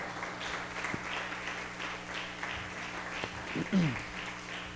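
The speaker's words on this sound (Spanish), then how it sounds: "Denle un aplauso" A church congregation claps in a fairly soft, scattered burst of applause, heard with a voice talking faintly in the background and a few sharper knocks and a short squeak along the way.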